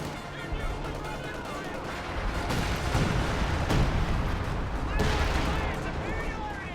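Anti-tank gun firing in a multiplayer strategy battle, with heavy booming reports rising out of a constant roar of distant gunfire and explosions, several loud hits clustered in the middle of the stretch.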